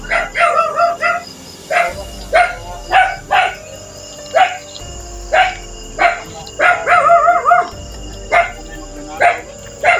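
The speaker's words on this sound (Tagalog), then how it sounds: "Yung hayop, yung aso." A dog barks repeatedly at close range, sharp barks in an irregular series, some coming in quick clusters, over steady background hum.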